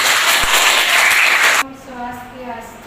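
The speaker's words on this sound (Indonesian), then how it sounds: "Berikan tepuk tangan dulu ya" A classroom of students claps together for a group about to present, a dense burst of about a second and a half that stops abruptly, then a voice speaks.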